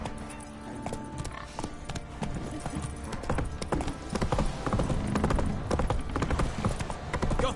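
The horse Roach's hooves in The Witcher 3: Wild Hunt, a steady clip-clop of trotting hoofbeats close by with a busy game soundscape underneath and faint voices.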